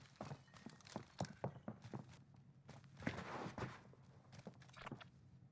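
Enemy footsteps in Warzone Pacific, a run of quick, fairly close thudding steps on a hard surface, steady and rhythmic with no talking.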